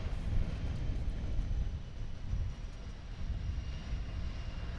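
An Air France airliner on runway 10 at SXM airport, Maho Beach, Sint Maarten, makes a steady, fairly distant low jet engine rumble and roar that holds for several seconds without breaks.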